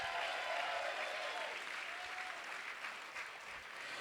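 Audience applause for donors at a charity gala, a dense, steady round of clapping lasting several seconds from a full room, with no voices over it.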